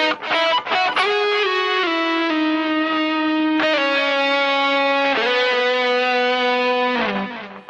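An electric guitar plays a sustained, singing lead melody from a song, with a quick opening pickup followed by held, gliding notes that move down and up in pitch, clear and close, with no voices.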